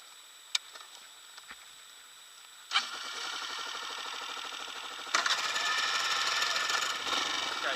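A motorcycle engine starts during basic rider training: a couple of faint clicks, then the engine cranks and catches at about 2.7 s and settles into a steady idle that rises slightly louder toward the end, with no talking.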